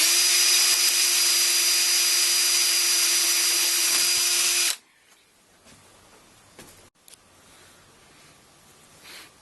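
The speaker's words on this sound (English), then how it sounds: "So now I'm going to drill out the hole with the proper bit size." A power drill bores out a hole in metal with the correct bit size ahead of thread tapping, a loud steady high whine for nearly five seconds before stopping abruptly, leaving faint handling noises and a couple of soft clicks.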